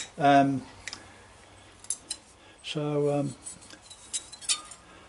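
Two sharp metallic snips of hand shears close by, each a brief ringing scrape, with faint clicks and a voice in between.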